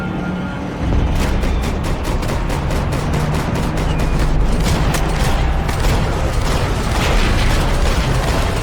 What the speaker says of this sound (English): Oh, there he is! Shoot him!